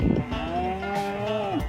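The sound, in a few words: cattle mooing during a cattle drive through town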